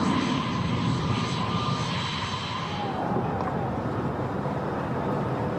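An A-10 jet flies an airshow maneuver, its twin engines producing a loud, steady roar with a high whine that sweeps and fades as it passes, alongside a voice speaking.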